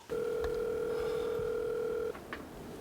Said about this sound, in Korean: 우선 영남이 형한테 전화를 걸었죠.